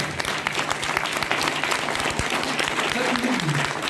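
A seated audience at a talk gives loud, sustained applause for a senior leader, the clapping dense and continuous while a voice speaks over it.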